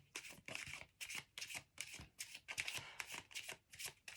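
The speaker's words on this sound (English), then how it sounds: "I don't know which one to take, so I will keep shuffling again." Tarot cards are shuffled by hand in quick, rhythmic bursts of papery riffling, about eight close, quiet strokes with brief pauses between and no talking.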